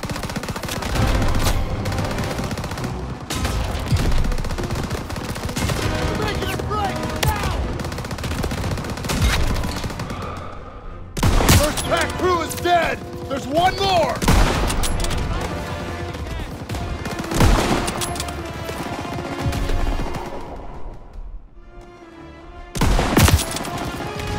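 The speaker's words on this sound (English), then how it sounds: "Everyone open fire!" Heavy gunfire crackles through a Call of Duty: WWII battle, with rapid machine-gun bursts and single shots repeating close and loud, punctuated by sharper blasts, while voices shout over the fighting.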